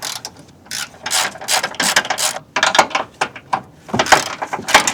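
A hand ratchet wrench clicks in rapid rasping bursts while removing the alternator from a first-generation Honda CR-V, loud and close, with brief pauses between strokes and no talking.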